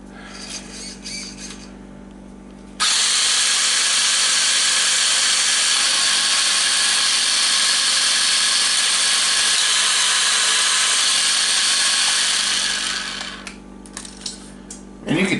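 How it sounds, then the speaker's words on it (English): Ungreased gears grinding in an RC Hilux clone with rear-wheel steer, a loud, steady whirring drone lasting about ten seconds that starts abruptly and fades out, with quieter mechanical noises before and after. "you can hear that there's no grease on those gears anywhere"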